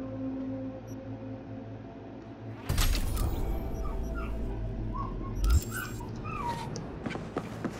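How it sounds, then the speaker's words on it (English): A dog in the video game Cyberpunk 2077 yips and whimpers in short bursts over an ambient game soundscape, with a louder thump partway through. "Can you shut your mouth, you stupid dog?"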